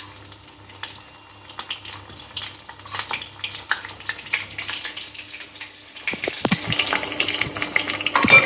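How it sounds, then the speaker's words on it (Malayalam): Batter-coated prawns for Chinese-style batter fry drop into hot oil. Quiet kitchen clatter gives way to a sudden, loud, crackling sizzle that keeps going and grows stronger toward the end. "ഇനി ഓരോ ചെമ്മീനെടുത്ത് ഈ ബാറ്ററിൽ മുക്കിയിട്ട് നമ്മൾ ഇടണം, ബാറ്ററോട് കൂടിയിട്ട്"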